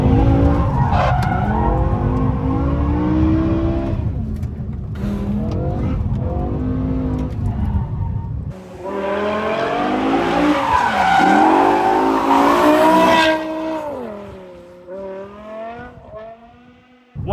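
BMW M6 with a V10 engine sliding sideways through a corner, loud sustained tyre squeal and screech over a revving engine, pitch sweeping up and down, easing off near the end.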